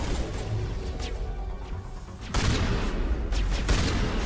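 Rocket explosion in Mass Effect: Legendary Edition amid gunfire, a heavy blast hitting partway through followed by a louder stretch of combat noise with sharp cracks.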